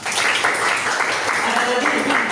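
A classroom of students breaks into brief, dense clapping in a busy room, loud and close, with chatter mixed in throughout the short burst.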